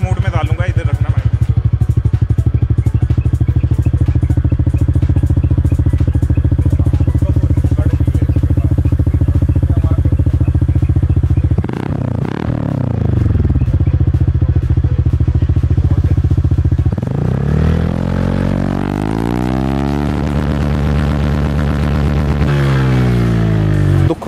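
Engine of a fully modified TVS NTORQ 125 scooter running in race mode, a loud, steady close drone with two rising revs in the second half.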